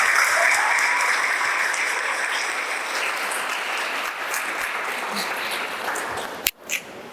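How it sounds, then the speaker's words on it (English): A school valedictory ceremony audience gives teachers a long, sustained round of loud applause that fills the hall and ends abruptly. "Can we have a huge round of applause for our outstanding"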